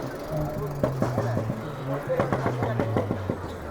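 A modified show car at a college auto show in Trivandrum, Kerala, starts up into a low, steady engine drone with rapid rhythmic ticking pulses, heard under nearby talk.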